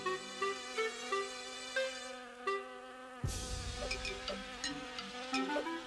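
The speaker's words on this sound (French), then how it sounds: "une abeille arrive à toute vitesse et tente par tous les moyens d'empêcher Connie de boire l'eau" A cartoon bee buzzes at high speed, a whining insect drone layered over bright cartoon music with a sudden swell midway.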